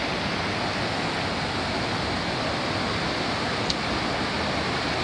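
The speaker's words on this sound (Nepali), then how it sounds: "बर्खा भन्दा ठुलो हुन्छ यो खोला" The Likhu Koshi, a swollen Himalayan mountain river, roars in a steady, dense rush close at hand with no voices, broken only by a faint brief tick.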